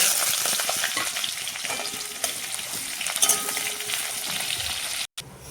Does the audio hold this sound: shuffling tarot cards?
no